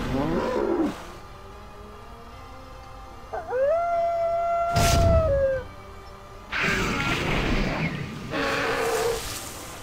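A drawn-out wolf-like howl from a pet battle in a video game rises and holds over electronic game sounds, with booming effects and bursts of noise before and after.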